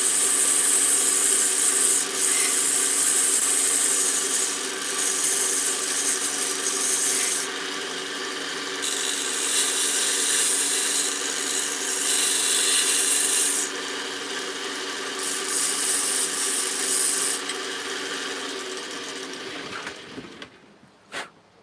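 A metal file scrapes off the sharp points of a ragged back piece for an essential oil diffuser pendant, making continuous close, loud rasping strokes with brief pauses between passes before stopping abruptly.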